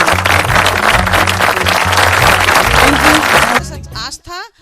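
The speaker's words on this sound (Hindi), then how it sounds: "हम लोग डॉक्टर साहब के लिए जोरदार ताली बजाएंगे।" A crowd at an International Women's Day gathering claps loudly for a doctor. The dense, steady applause lasts about three and a half seconds, then stops abruptly and a voice begins speaking.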